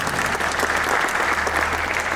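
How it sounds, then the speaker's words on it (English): Steady audience applause at a product unveiling event, dense clapping from a crowd filling the room without a break. "So maybe also a big round of applause for those folks"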